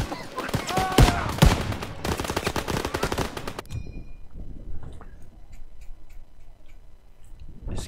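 Rapid machine gun fire and scattered gunshots in a World War II battle in the video game Call of Duty WWII, dense and loud for about four seconds before thinning to faint, sporadic distant shots.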